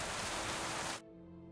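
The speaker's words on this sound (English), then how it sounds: "It's raining." Steady rain pours loudly in Kingdom Come: Deliverance II, a dense hiss that cuts off abruptly near the end, leaving a quieter background.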